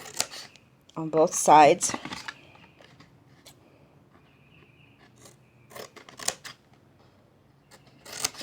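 A few crisp scissor snips through a shadow box craft card, close and sharp, coming between stretches of a person talking, with a couple more cuts late on.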